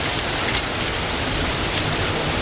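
Steady heavy rain and hail pouring down during a Waco thunderstorm, a loud continuous hiss with no break.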